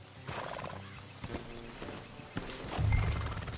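Video game horse hooves clip-clop at a walk amid a busy outdoor mix, with a snort or whinny and low rumbling near the end.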